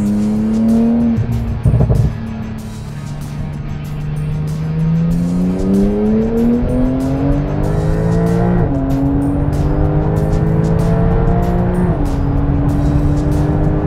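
A loud Porsche 992 Turbo S revs hard through several gear changes, rising in pitch again and again, with a brief exhaust crackle early on, close and dominant throughout.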